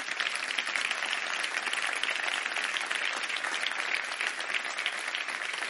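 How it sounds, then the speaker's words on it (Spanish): Sustained applause from a large audience at a talk on economic liberalism, a dense even roar of clapping heard from some distance, holding steady throughout. "Merecido aplauso."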